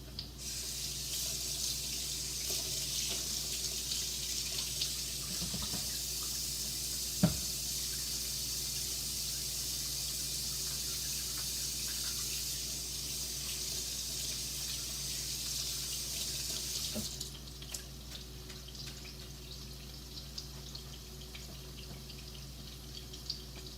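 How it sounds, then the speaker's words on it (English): A kitchen tap runs into a sink for hand washing while cooking homemade meatballs, a steady quiet stream with small splashes and a faint clink, then the flow softens near the end. "Okay, this has to go in the sink. I have to wash my hands."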